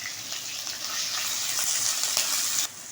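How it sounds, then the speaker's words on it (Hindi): Ginger and garlic sizzle steadily in hot oil in a pan, a bright, continuous frying hiss that holds for several seconds before cutting off abruptly near the end. "अब हम इसको सौते कर लेते हैं।"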